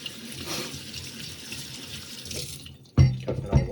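Water runs from a tap over duck meat being washed in a sink, a steady splash that cuts off near the end before a few louder, closer bursts of running water.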